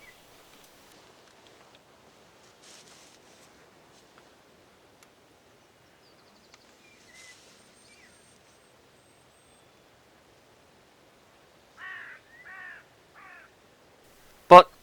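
Hooded crow calling as it flies past, a few harsh caws in a short burst late on, moderately distant over a quiet outdoor background, followed by a single sharp loud thud at the very end.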